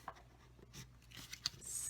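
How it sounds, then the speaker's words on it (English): Paper box card being folded along score lines and rubbed flat with a burnishing tool: faint scraping and rubbing strokes with small crisp ticks, close and quiet, no speech. "we're going to fold and burnish these score lines"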